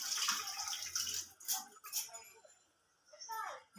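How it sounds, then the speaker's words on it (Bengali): Hands being washed under a running tap in a home kitchen after handling fish, a steady splashing water stream with a short break, while someone talks over it. "হাতটা ধুয়ে নিচ্ছি"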